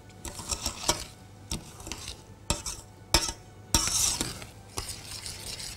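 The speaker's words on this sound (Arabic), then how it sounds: "فبنقلب علشان السكر والزبدة يدوبوا" Sugar and butter are stirred in a pan as they melt, giving scraping spoon strokes against the pan with a soft bubbling sizzle underneath, a few louder clinks, and no talking.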